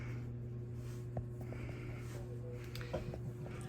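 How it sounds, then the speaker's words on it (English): An Aloha Breeze ceiling fan runs at medium speed, giving a steady low hum with constant broadband whoosh that holds an even level throughout, with a few faint clicks. "And here's medium."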